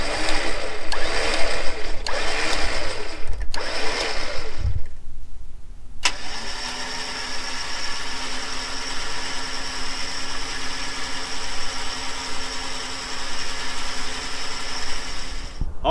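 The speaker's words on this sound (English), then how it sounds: "there's an example of a double line pull using the gold ring as a snatch ring" A winch runs a double line pull through a GearAmerica G.O.L.D. ring used as a snatch ring: a few short mechanical bursts, a brief pause, then a steady, even motor whine that continues to the end.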